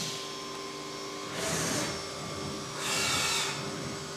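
A Haas UMC 5-axis mill cuts a part, giving a steady machine hum with two louder swells of broadband cutting noise, each lasting about half a second.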